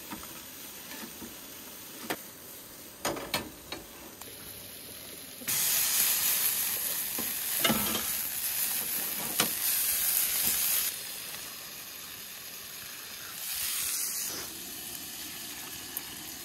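Sausages frying in a pan at a campsite on a sandbar island, a steady close sizzle and hiss that swells louder partway through, with a few light clinks and scrapes of a utensil.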